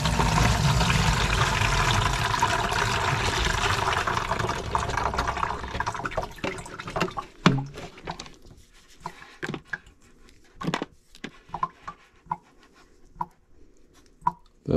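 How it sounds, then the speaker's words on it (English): Water poured into a small rock tumbler barrel while washing a big rock, a steady wash of liquid for several seconds that then fades into scattered drips, clinks and small handling sounds. "I'm going to wash this up a little bit and pour in a little bit of water."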